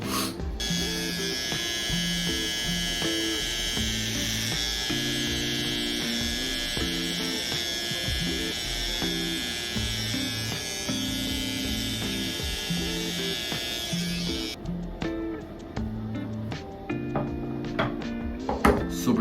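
An electric hair clipper cutting a person's own hair buzzes steadily and close for most of the time, then switches off, leaving scattered taps and handling clicks.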